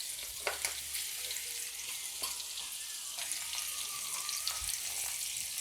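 Carrots are stirred into a mixed carrot, radish and chili pickle mixture in a pan. A soft, steady hiss carries light stirring scrapes and occasional faint clicks, all fairly quiet and close.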